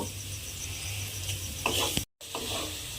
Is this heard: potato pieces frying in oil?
yes